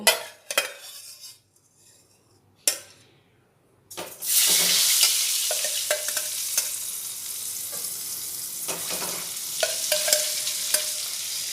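Boiled, peeled eggs go into hot oil with a pinch of turmeric for a restaurant-style egg curry. After a few clinks and pauses, a loud, sustained sizzle bursts up, with a spoon scraping the pan now and then.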